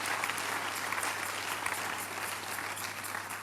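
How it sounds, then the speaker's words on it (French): Congregation applauding at a midweek church communion service, steady dense clapping that holds throughout at moderate level, with no voices on top. "Give the Lord a big hand of praise."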